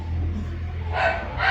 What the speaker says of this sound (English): Never mind the dogs barking in the background.